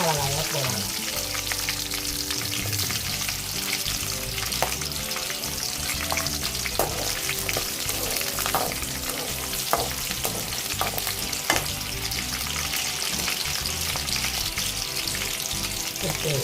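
Curry leaves and green chillies fry in hot oil for a Chettinad crab gravy, giving a loud, steady sizzle with scattered crackles and occasional stirring clicks throughout.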